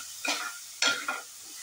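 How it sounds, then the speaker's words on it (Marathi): Soaked barnyard millet (varai) being stirred with potato frying in ghee in a pan: two or three quick scraping strokes over a soft, steady sizzle, close and alone. "हा भिजवलेला वरई आहे ना, ती सगळी घालायची आणि चांगली परतून घ्यायची आहे तुपात"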